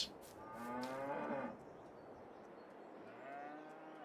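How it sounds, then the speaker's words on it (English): Cows moo on a British farm in The Oaks farming game, sounding as two long, drawn-out lowing calls, the first loud and close and the second softer, with no talk. "Let's check on the cows."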